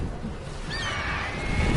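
A horse neighs in The Witcher 3, a brief high whinny rising over a steady bed of wind-like game ambience.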